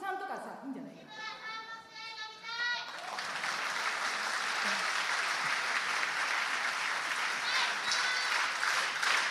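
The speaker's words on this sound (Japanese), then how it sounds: "そして場内は手拍子。" A wrestling crowd at the Hana Kimura memorial show claps along in a steady, dense rhythm that fills the hall, following a few seconds of voices and chatter.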